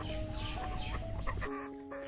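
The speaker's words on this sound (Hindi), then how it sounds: "यहाँ आरआर, सोनाली और ओरिजिनल देसी मुर्गी है" RIR, Sonali and original desi hens cluck softly at a poultry farm, faint and scattered over a steady background hum that drops abruptly partway through.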